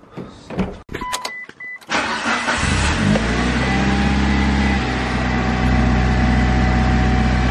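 A car is started after new spark plugs were installed: some clicks and a whirring power window come first, then the engine catches and settles into a loud, steady idle that carries on alone to the end.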